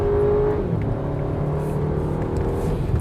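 An Audi Q3 Sportback Quattro, a 2021 model, climbs a wet hill under acceleration. Its engine drones and rises, then drops in pitch as the automatic gearbox upshifts, heard close from inside the cabin with no talk.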